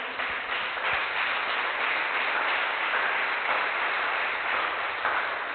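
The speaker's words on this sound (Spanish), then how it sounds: "Démosle el aplauso al Señor." Congregation applauding during a Sunday church service, a dense, steady wash of clapping that holds at an even level from start to finish with no talk over it.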